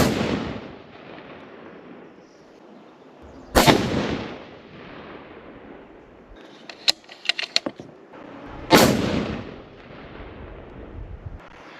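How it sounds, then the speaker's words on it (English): Rifle test-fired at a shooting range after cleaning, checking group size: two loud, sharp gunshots several seconds apart, each with a trailing echo, with a burst of small metallic clicks and rattles between them. "we will shoot again here"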